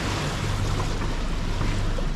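A sailboat's inboard engine runs at sea, a steady low droning hum with constant harmonics blended with wind and the broad wash of waves against the hull, continuous and fairly loud throughout.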